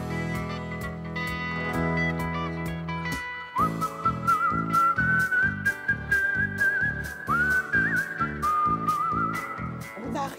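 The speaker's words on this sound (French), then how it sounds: "musique sifflée de télé" A melodic tune whistled clearly and close, carried over a steady rhythmic musical accompaniment.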